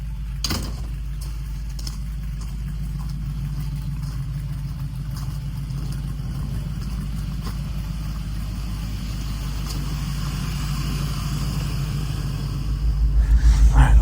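An LS-swapped GMC G30 van pulling out of a snowy driveway gives a steady, close low engine rumble that builds into a louder surge at the end.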